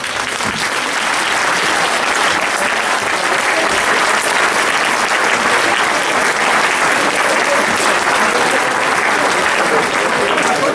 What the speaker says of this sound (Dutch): mag ik een David applaus voor Didier Pens Christ.